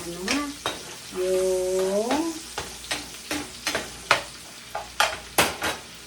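Sponge gourd being stirred and sautéed in a frying pan, a spatula scraping and clacking in repeated strokes over a soft sizzle, with a short stretch of talk at the start.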